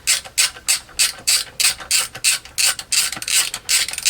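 Rapid ratchet clicking from tightening a nut and bolt into a stripped hole on a vacuum booster master cylinder, a steady run of about a dozen sharp, close strokes with no talk.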